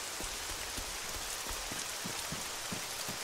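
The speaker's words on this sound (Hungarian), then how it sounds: "az esőjét pedig elnézést kérek, nem terveztem, hogy esni fog" Heavy rain pours down steadily at close range: a dense, unbroken hiss of drops spattering on surfaces, with no voices.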